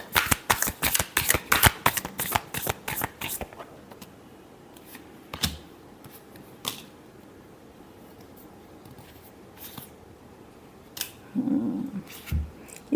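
A deck of tarot cards is shuffled by hand, a rapid, close run of crisp riffling flicks at the start, then only a few isolated card taps and rustles in near quiet.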